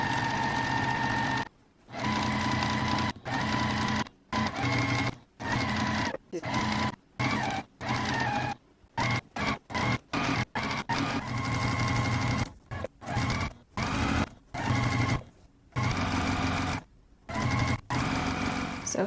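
A sewing machine runs close by, sewing gingham quilting strip sets in many quick bursts separated by brief pauses, a stop-start rhythm that continues throughout.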